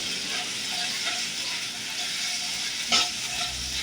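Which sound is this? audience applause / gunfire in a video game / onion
onion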